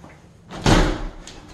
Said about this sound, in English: Door sticks a little bit.